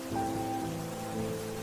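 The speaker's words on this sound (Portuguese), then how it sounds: "O som da chuva se misturava ao eco da voz dele" Steady rain falling at night, a constant even hiss with faint low tonal hum beneath it, no voices.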